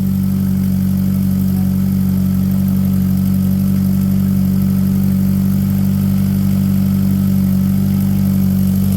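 The engine of a 63-year-old car runs at a steady, loud, close idle with a constant low rumble throughout, without clear revving.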